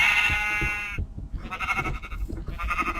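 A sheep in the video game AOTBT lets out a long, loud bleat, followed by a run of rougher, choppier bleats.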